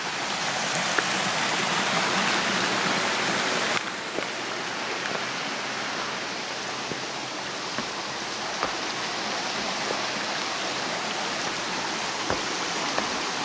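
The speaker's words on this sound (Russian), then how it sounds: "вот это вот подземный источник" A powerful underground spring in Crimea, water gushing out from among rocks, a loud, steady rushing and splashing flow heard close up and continuous throughout, with no talking.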